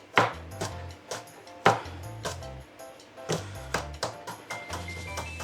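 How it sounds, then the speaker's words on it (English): Knife chopping vegetables on a board for chicken, potato and leek soup, a series of close, crisp cuts in an irregular rhythm, some louder strokes followed by quicker lighter taps. "And just chop them up as fine as you like"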